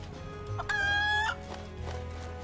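Chicken clucking from Final Fantasy VII Rebirth, a loud, bright squawking cluck burst in the middle over a steady game background hum, with softer clucks around it.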